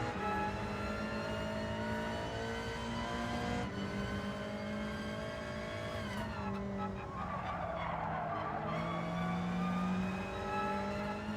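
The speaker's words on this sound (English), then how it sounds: "I've got a whole big train of cars coming through." A long train of Gr.4 race cars in Gran Turismo 7 at Watkins Glen streams past with layered, shifting engine whines that rise and fall in pitch, sustained and fairly loud throughout.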